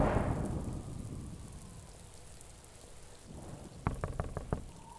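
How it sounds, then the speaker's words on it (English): Rain falling with gusts of wind around a house, a steady hiss opening with a strong rushing gust that eases into softer patter, followed by a short cluster of sharp taps near the end. "The clouds darkened as she approached the house, and Tracy felt a cool gust of wind as rain started to fall."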